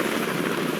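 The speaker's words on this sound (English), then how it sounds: "we got another helicopter that's circling" A helicopter circles overhead during a search in cold Alaska, its rotor a loud, steady whirring roar across the whole brief moment, with no voices.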